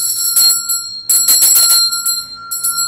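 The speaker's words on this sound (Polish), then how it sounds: "Ja mam tutaj taki dzwonek ze srebra." A small silver hand bell rung in bursts, bright high chiming tones with a ringing tail, close and clear with no voices.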